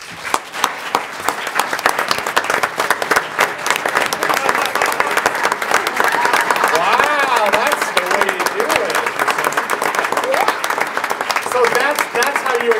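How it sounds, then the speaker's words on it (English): An audience at a town council meeting applauds with steady, dense clapping throughout, while a voice talks over it toward the end. "Please join me in giving her a round of applause."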